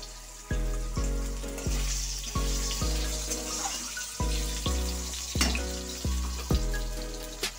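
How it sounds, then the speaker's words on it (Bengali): Potato pieces fry in oil in a pan with a faint steady sizzle, mostly buried under louder rhythmic plucked music playing throughout. "একটু ভেজে নেবো আলুগুলো।"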